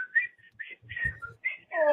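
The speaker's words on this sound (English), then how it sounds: "You whistling." A person whistles a short, warbling tune in bright, wavering notes with brief gaps, ending on a fuller, richer tone.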